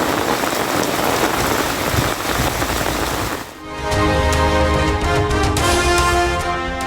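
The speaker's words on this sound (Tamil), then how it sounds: "திருவண்ணாமலை மாவட்டம் செங்கம் மற்றும் அதன் சுற்றுவட்டார பகுதிகளிலும் மழை கொட்டி தீர்த்ததால் விவசாயிகள்" Heavy rain pours down in Chengam, Tiruvannamalai district: a loud, dense, steady hiss of downpour for about half the clip, which then cuts to music.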